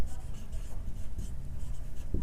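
Pen or pencil scratches steadily across paper while a math problem is worked out by hand, the writing a continuous close rustle with small strokes throughout.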